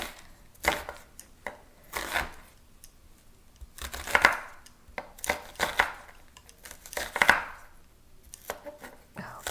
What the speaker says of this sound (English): I'm just gonna chop this onion